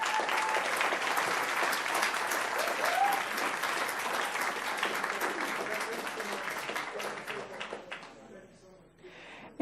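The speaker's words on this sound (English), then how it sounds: "Let's give them all a round of applause." A room of people at a Palm Beach County public meeting gives a sustained round of applause for dispatchers, dense clapping throughout that thins out near the end.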